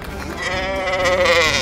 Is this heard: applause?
no